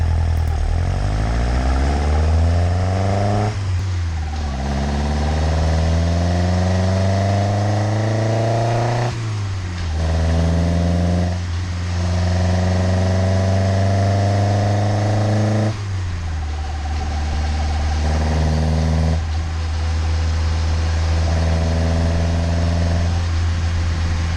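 A car engine during a test drive, revving up through the gears with repeated rising pitch sweeps and drops at each shift, loud and close throughout with no talk.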